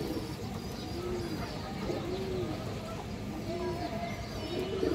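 Pigeons coo in a bird market pen, soft repeated low rolling calls recurring about once a second over a faint busy background hum.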